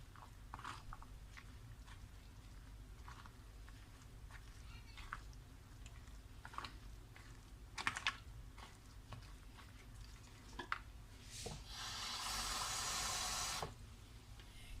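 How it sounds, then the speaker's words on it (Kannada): Rava and gram flour dosa batter is mixed with water, giving a series of irregular wet squelches and clicks that end in a steady, louder watery rush lasting about two seconds. "ಈಗಿದು ಚೆನ್ನಾಗಿ ಮಿಕ್ಸ್ ಮಾಡ್ಕೋಬೇಕು ನೀರು ಹಾಕಿ ಹಾಕಿ"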